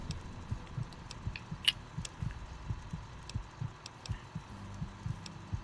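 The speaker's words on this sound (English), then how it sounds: "can hear my heart beating" A faint, steady heartbeat in the video game Fallout: New Vegas throbs in a regular low rhythm, with soft clicks scattered above it.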